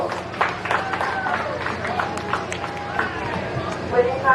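Scattered handclaps from a small audience at a community fair goat show honour the exhibitors, sparse and moderately close, mixed with crowd chatter and a voice talking over them.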